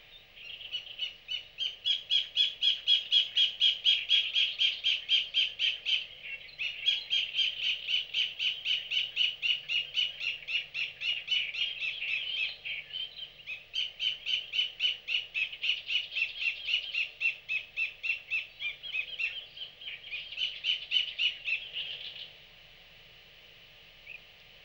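A white-collared kingfisher in a mangrove territory gives long, loud runs of harsh, rapidly repeated chattering calls, pausing briefly between bursts, close and clear against a quiet background.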